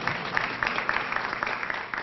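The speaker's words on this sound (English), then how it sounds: "Give yourselves a round of applause." A crowd applauds at a rapid bus transit line ribbon cutting, producing a dense, steady wash of many hands clapping at moderate volume, heard from some distance.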